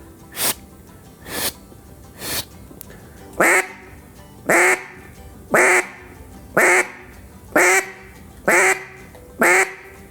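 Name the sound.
duck call imitating single hen quack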